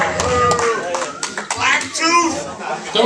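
An audience at a comedy roast clapping and cheering, loud scattered applause mixed with crowd chatter and shouts, close and busy throughout.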